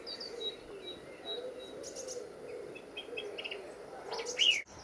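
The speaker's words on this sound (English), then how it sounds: "there, deep in the bluebells, is a song thrush" A song thrush hidden deep among bluebells sings faint, scattered phrases of high chirps and whistles over a soft steady outdoor hum, with one louder, closer note near the end.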